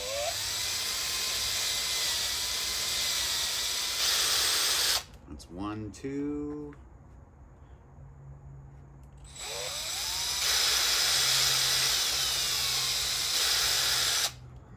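A power drill whines loudly for several seconds boring 1/4-inch holes in metal, stops while someone briefly speaks, then starts up again for another long steady run.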